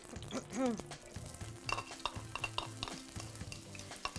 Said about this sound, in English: the best thing you can do to start a recipe is fry your onions